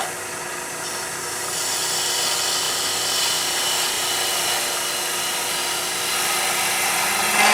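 A steady whirring, rushing cut from a lathe tool shaping a custom walking stick cap, holding one even level throughout and rising slightly at the end, close with no speech.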